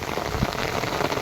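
A short stretch of heavy downpour on fields and trees where goats are sheltering, a close, constant roar of rain filling the whole moment.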